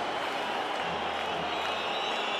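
Crowd at a handball match between Serbia and Croatia in the Belgrade arena: a dense, steady roar of many voices filling a large indoor hall, loud and unbroken for the whole stretch.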